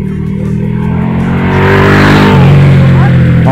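A Ducati motorcycle rides past on a mountain road, its engine rumble swelling louder and rising in pitch as it nears, then holding at a strong roar for the final second.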